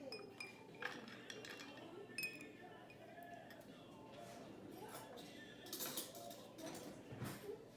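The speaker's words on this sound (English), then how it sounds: "We're gonna put a couple ice cubes in here." A few bright clinks of ice cubes dropping into a glass, scattered and close, over soft background talking.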